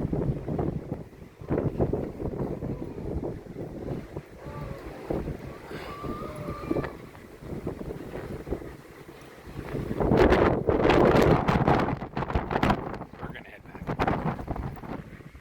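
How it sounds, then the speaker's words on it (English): Strong gusting wind at Pali Lookout in Hawaii buffets the microphone in heavy low rumbles that surge loudest toward the end, with people talking intermittently through it. "Too windy for you?"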